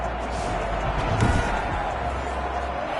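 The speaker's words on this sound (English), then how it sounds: "Crowd getting in it a bit already." Stadium crowd at an NFL football game making a steady roar of cheering and chatter, broad and continuous with a brief swell near the middle and no distinct voice standing out.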